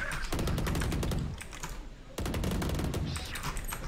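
Rapid bursts of gunfire from the tactical shooter Valorant, loud and close, dense volleys at the start and again after a brief quieter gap, with no talk over it.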